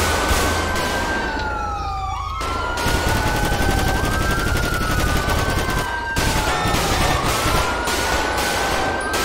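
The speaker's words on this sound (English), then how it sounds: "Shots fired, shots fired." Rapid gunfire bursts ring out in a police roleplay video game, layered over a continuous wailing police siren that sweeps up and down throughout, loud and close with sharp cracks breaking through.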